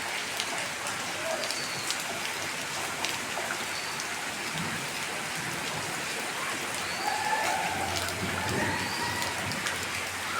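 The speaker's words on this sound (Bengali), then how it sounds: "বৃষ্টি পড়তেছে।" Steady rain falls on a waterlogged street under an overcast sky, a dense, continuous hiss with scattered drops and faint background sounds, close and constant with no clear speech.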